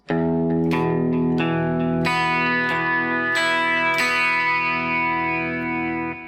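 Guitar plays bar 8 of a Gothic picking exercise: a run of distinct picked notes in a steady, arpeggio-like rhythm, effects-laden with chorus and slight distortion, close and clear, the final notes ringing out alone.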